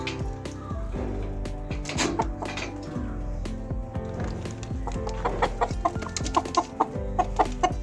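Four chickens, let out of a coop together with pigeons, cluck over a steady, busy background with many overlapping sounds, the clucks coming in short repeated bursts toward the end.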